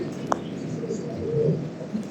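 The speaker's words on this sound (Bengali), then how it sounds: "কবুতর খাওয়া দিতেছি" Pigeons in a loft coo softly in low, throaty tones while feeding during rain, amid a steady background hiss, with a brief higher chirp early on.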